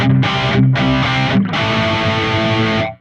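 Electric guitar through a Mooer GE 200 high-gain patch plays loud, saturated distorted chords, with a few short choppy stabs and then a sustained ringing chord that cuts off abruptly.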